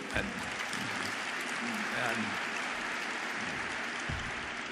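A large shareholder meeting audience applauds in a sustained, moderately loud round of clapping, with voices talking over it.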